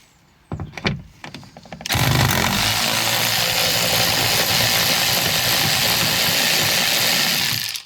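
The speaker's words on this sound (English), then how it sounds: "Luckily, I've got the Sealy electric ratchet. They're 8mm bolts" A Sealy electric ratchet whirs continuously on 8mm bolts during a BMW E92 320d service, a steady close mechanical buzz after a few brief knocks and handling clatters at the start.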